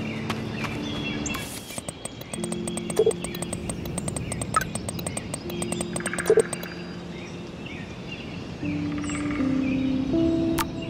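Birds chirp and tweet in an outdoor scene from the video game Life is Strange, with small calls scattered over a steady ambient bed and low tonal music underneath.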